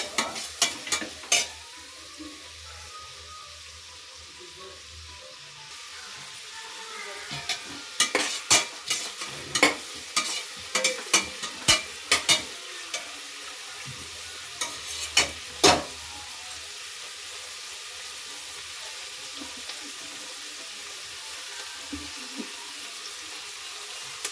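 Onions fry for a soya green biryani, a soft, steady sizzle broken by a series of sharp clinks and scrapes as a utensil stirs the pan.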